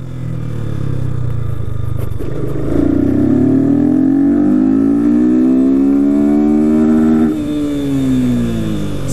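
A 250cc motorcycle with no air filter revs hard, its engine note climbing in rising sweeps and holding high against the rev limiter before dropping back, loud and close.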